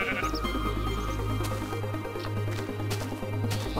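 Sheep bleating in a video game, a steady bleat over continuous game background sound and low droning hum, no voices.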